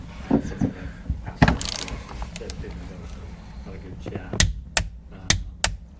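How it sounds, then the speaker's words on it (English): A torque wrench tightens the steering wheel bolt of an Aston Martin DB9, DBS or Vantage to 40 newton meters. Near, sharp clicks and knocks stand out, with a quick burst of several crisp snaps toward the end and faint talk and shuffling underneath. "get your torque wrench and set it to 40 Newton meters, or about 29 foot-pounds of torque"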